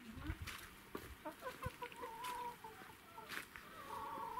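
Hens cluck and chatter in short irregular bursts at moderate distance, with faint farmyard ambience underneath and no talking.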